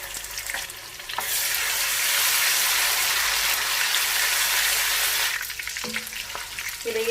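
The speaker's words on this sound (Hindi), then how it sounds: "फ्राई करेंगे थोड़ा प्याज को" Onions with ginger garlic paste sizzle loudly in hot oil in a pan for mutton karahi, a steady broadband frying hiss that swells from about one second and eases near the end, with a few scraping stirs.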